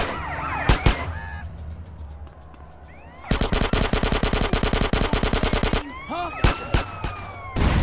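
Police gunfire in GTA San Andreas: a short double burst, then a long rapid machine-gun volley of sharp cracks, followed by more scattered shots, with siren wails rising and falling between the bursts.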